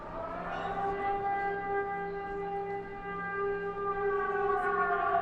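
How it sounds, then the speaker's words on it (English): An air raid siren in Ukraine wails steadily in the distance, a sustained rising and falling tone that fills the whole clip without pause. "For the first time, I'm hearing a siren go off."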